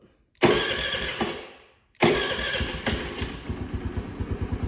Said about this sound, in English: 2 clicks, she started up